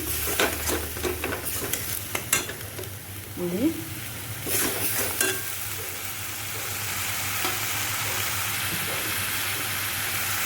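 Egg curry spices with tomato frying in a hot pan, a continuous close sizzle with several stirring scrapes and clinks early on, then a steady hiss.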